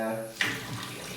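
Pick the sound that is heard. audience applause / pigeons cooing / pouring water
pouring water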